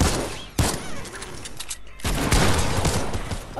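A burst of automatic gunfire in a video game, with sharp close shots crackling over a loud, busy backdrop that briefly drops away before the firing picks up again.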